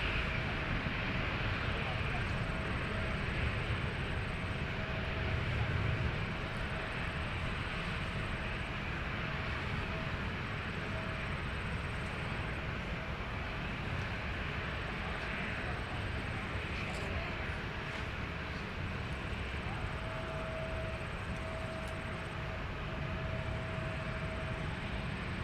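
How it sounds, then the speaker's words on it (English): Delta 171 heavy jet departing Minneapolis airport, a sustained distant roar of engines holding steady throughout, with a faint tonal whine and thin hiss above the rumble. "Delta 171 Heavy is in the air."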